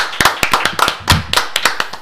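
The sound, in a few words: studio audience applause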